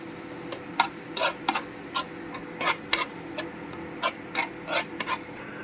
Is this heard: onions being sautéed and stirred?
yes